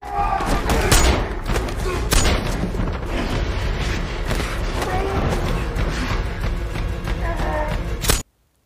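Rapid bursts of gunfire and heavy booms fill a shootout scene from the 2021 film Wrath of Man, dense and loud throughout before cutting off abruptly.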